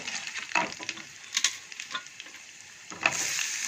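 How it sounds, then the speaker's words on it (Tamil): Poppy seeds and spices sizzle softly in a pan for chicken kuruma, a faint steady frying hiss broken by a few louder crackles and stirring scrapes; no voices. "அதையும் போட்டு ஃப்ரை பண்ணிக்கணும்."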